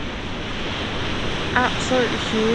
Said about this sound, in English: Look at the size of the waves.